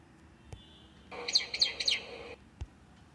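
A short electronic birdsong notification tone on an Android smartphone, several quick bright chirps in a burst lasting about a second, clear and close, with faint clicks before and after.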